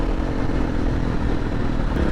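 KTM 350 or 500 EXC dual sport motorcycle being ridden, its engine a steady loud drone with a clattery rumble and no change in pace across the short stretch.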